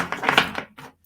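Tarot oracle cards being shuffled by hand up close: a quick run of crisp riffling flutters and soft slaps, dense at first, then a brief pause and one last short riffle before stopping.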